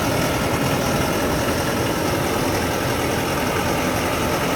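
A 130 horsepower farm tractor engine idles steadily at close range, a constant low rumble with vibration and no break or change in pitch.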